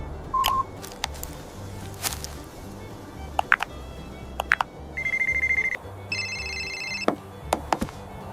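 Mobile phone call being placed: short electronic beeps and tones, then a steady warbling ringtone in two bursts, with scattered clicks and taps over a low background hum.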